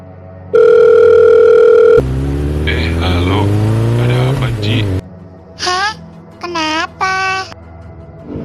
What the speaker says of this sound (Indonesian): Gue telepon dulu deh.